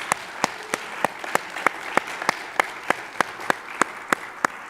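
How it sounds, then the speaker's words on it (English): Applause from a small audience at a church community police forum, heard alone as sparse, evenly spaced hand claps, a steady rhythm rather than a dense roar. "let's give them another warm applause"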